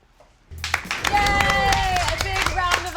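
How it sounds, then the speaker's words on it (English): A small studio group claps and applauds enthusiastically after a short quiet lead-in, with steady dense clapping and scattered cheers and voices mixed in. "A big round of applause"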